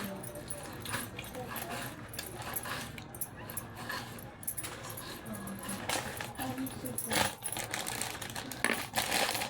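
Tomatoes being finely chopped for bhel, a quick irregular series of light knife taps on a board, faint and close, with someone talking over much of it.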